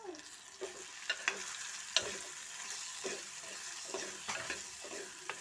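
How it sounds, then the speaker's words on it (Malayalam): Cumin, salt and turmeric being sautéed in a pan for a taro-stem pulissery, with a low steady sizzle broken by repeated close stirring scrapes and taps. "ഇത്രയും ചേർത്തൊന്ന് വഴറ്റിയ ശേഷം"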